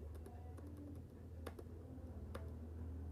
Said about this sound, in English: I will be just typing it